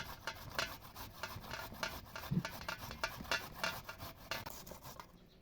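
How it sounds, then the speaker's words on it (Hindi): A radish is grated by hand in a home kitchen, giving a steady, rhythmic series of quiet rasping strokes, close and faint, with no talking. "तो अभी मूली को कद्दूकश कर लेते हैं।"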